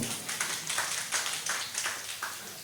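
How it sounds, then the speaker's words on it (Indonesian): A small school audience claps for a speaker, sparse and fairly faint hand claps coming in loose, uneven bursts with no voices over them. "Tepuk tangan buat beliau."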